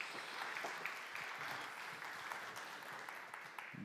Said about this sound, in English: a very warm applause virtually and from here from the room for you